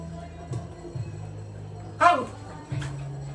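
A short yelping dog bark breaks through a quiet background, with a few faint thumps and low hum around it.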